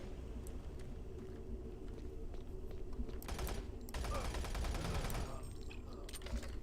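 Rapid bursts of P90 gunfire in the shooter game DOOM 3, a dense crackling volley that stops and starts over a steady background of game ambience and machinery hum.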